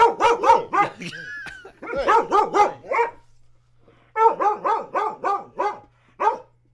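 A dog barks nearby in rapid, loud bursts: a run of about five barks, another quick run after a short whine, then a pause before a final volley of several barks.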